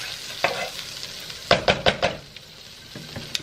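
Butter sizzles in a pan over lowered heat for fettuccine Alfredo, a soft steady frying hiss broken by a few sharp close knocks and scrapes of a utensil against the pan, with no talk.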